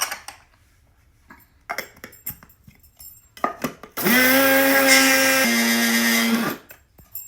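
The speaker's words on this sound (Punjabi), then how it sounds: "ਆਪਾਂ ਜਮੈਣ ਨੂੰ ਮਾੜਾ ਜਿਹਾ ਗ੍ਰੈਂਡ ਕਰ ਲਾਂਗੇ" A spice grinder whirs loudly for about two and a half seconds, crushing carom and mustard seeds, with a steady motor hum that shifts pitch midway, preceded by scattered clicks and taps.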